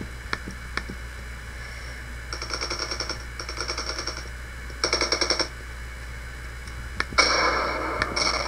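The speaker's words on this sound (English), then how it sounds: "Yes, I am shooting my own team members." Automatic gunfire in the video game Ravenfield Beta 4, several rapid bursts of evenly spaced shots with scattered single cracks, steady and moderately loud over a constant background hum.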